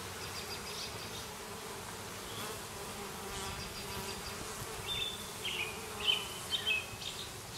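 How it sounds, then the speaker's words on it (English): Honey bees hum steadily around an open hive of foundationless frames: a dense, close, continuous buzz with individual bees swelling louder as they pass near, and no voices. "A couple bees over here in the upper right-hand corner. They got their heads all the way in the hive or in the comb."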